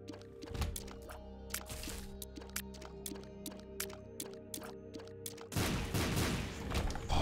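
In The Binding of Isaac: Afterbirth with the Heretic mod, a rapid string of sharp explosion cracks and thumps goes off in irregular succession over a low game drone, ending in a denser, louder burst of blasts.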